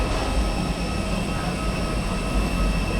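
A Cebu Pacific airplane on an airport runway, a continuous low engine roar and broadband rumble, steady and fairly loud from nearby, with no talking.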